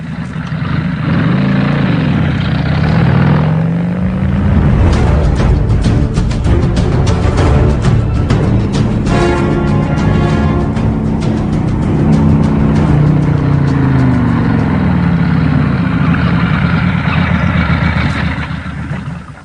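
A motorcycle engine runs loudly and steadily for about twenty seconds, its pitch rising and falling as the throttle changes, with no voices over it.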